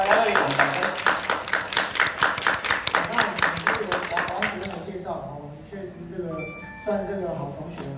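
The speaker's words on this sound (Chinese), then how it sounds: "好，大家热烈掌声。" Audience applause at a talk on drug enforcement and addiction recovery, rapid rhythmic clapping from a crowd for about five seconds, then fading into scattered claps and murmuring.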